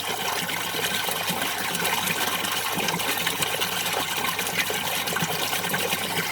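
Water circulates steadily through an aquaponics fish tank, a continuous broadband gush and trickle that stays even and fairly close throughout, with no talk over it.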